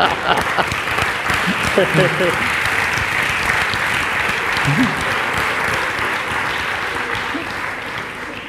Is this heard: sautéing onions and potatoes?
no